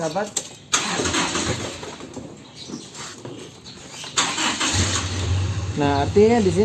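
A car engine starts and settles into a low, steady idle as it warms up, with someone talking over it for most of the time.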